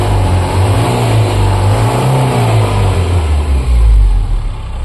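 A jeep engine revs loudly up close, its low throbbing drone rising and swelling in pitch, then falling back and surging again near the end, with no talking over it.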